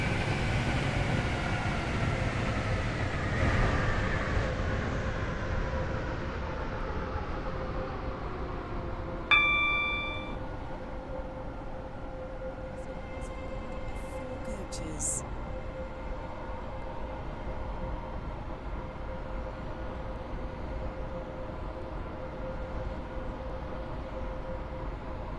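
Roblox Class 385/1 electric train pulling into Leighton Stepford Road station in a game, a steady rumbling run with a falling motor whine and a brief chime partway through, with no talking.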